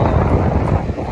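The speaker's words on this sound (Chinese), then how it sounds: "起风啊！" Wind blowing hard across a fishing boat out on rough open water, a steady, loud roaring rush with gusty buffeting against the microphone and no voices.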